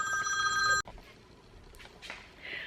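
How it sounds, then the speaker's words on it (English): A telephone bell rings loudly and steadily for under a second, then cuts off abruptly, leaving quiet room noise with a few faint rustles afterward. "every time I try to do a vlog, my phone rings"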